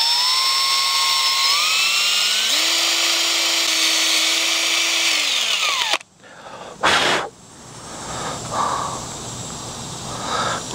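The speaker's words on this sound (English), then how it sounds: "We'll continue to drill." A power drill bores vent holes in a plastic Spulse toy rifle, a close, loud whine rising and falling in pitch for about six seconds, then stopping, followed by a brief burst and quieter handling noise.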